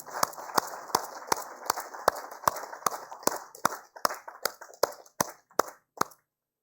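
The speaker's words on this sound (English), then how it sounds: "A big round of applause for the efforts of the government of Uttar Pradesh." Applause at a sanitation awards ceremony, a steady crowd clapping with sharp, evenly spaced louder claps cutting through, continuing for several seconds before stopping abruptly.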